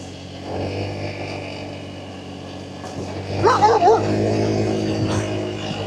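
Dogs bark and yip in short bursts midway through, passing very close to a Honda SH125 scooter, over a low rumble of passing traffic.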